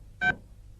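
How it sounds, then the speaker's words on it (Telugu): A single short telephone keypad tone sounds once in a Telugu movie comedy scene. The clean beep is brief and stands alone in near quiet. "ఈసారి నెంబర్ కరెక్ట్ కొట్టాలి."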